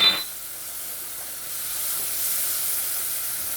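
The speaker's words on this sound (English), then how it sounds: "I'm going to stir that. Stir for about 2 minutes." Garam masala and Montego Bay hot curry powder stirred into a chickpea curry, a soft continuous sizzle and hiss in the pan after a brief louder scrape at the start.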